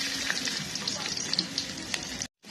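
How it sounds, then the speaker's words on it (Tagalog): Garlic and onion sizzle in oil in a hot frying pan. A steady crackling fry with scattered pops runs close and fairly loud, then cuts off briefly near the end. "Okay, lagay na natin yung kawali. Lagay na natin itong si pag-asawa na si bawang at sibuyas."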